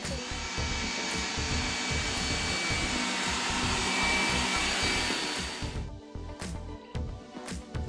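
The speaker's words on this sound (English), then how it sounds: "So I'm going to get under the dryer for a little bit" A hooded hair dryer roars in a steady, close, loud broadband whoosh for most of the time, then cuts off, leaving a few scattered knocks and rustles.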